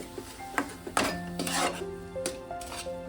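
A utensil stirs and scrapes jaggery and coconut filling in a pan, giving irregular close scrapes, knocks and rubbing strokes, with a faint tonal ring from the metal.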